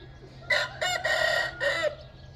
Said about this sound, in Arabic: الديك ده ما شاء الله عليه